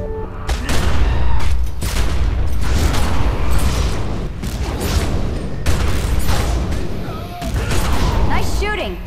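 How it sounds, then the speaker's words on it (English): Repeated bursts of gunfire aimed at zombies in The Secret World, loud rattling volleys broken by short pauses, with voices talking between the shots. "Nice shooting."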